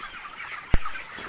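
On a poultry farm, a single sharp cluck from a 26-day-old chicken rings out once, nearer than a faint background of birds and a low ambient hum.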